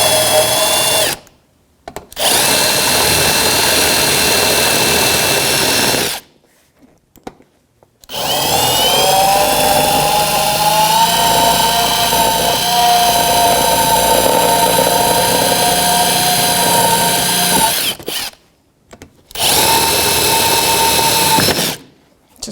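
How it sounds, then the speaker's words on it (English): A power drill with a 7/32 bit cuts off rivet heads on a 2009-2014 Nissan Maxima bumper bracket, in several loud, sustained bursts broken by short pauses. "I'm using a 7/32 drill, and I'm just going to drill right off the rivet head."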